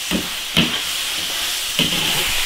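Spices and seasonings, including garlic, Sichuan peppercorns, chilies, salt, soy sauce and black pepper, stir-fry in an iron wok with a steady loud hiss and sizzle, broken by a few brief scraping stirs.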